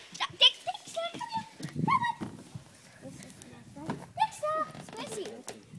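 A dog whines and yips in short, high bursts close by on a fishing outing at the Keurbooms River, with people talking over and between the sounds.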